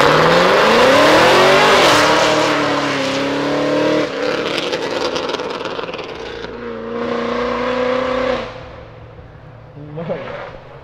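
A Chevrolet Celta revs loudly outside a car event, its engine note climbing and falling through several hard blips before dropping to a lower idle, with a brief final rev at the end.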